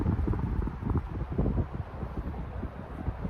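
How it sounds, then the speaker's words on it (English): Gusty wind buffets the microphone at Big Laguna Lake on a crisp day, low rumbling bursts and roaring surges pulsing irregularly, loud and close with no one talking. "And it's windy."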